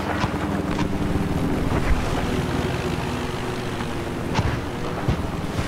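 A warship surges through rough waves on the Paracel Storm map in Battlefield 4, a continuous loud wash of water and wind-blown rumble with a few sharper splashes breaking through.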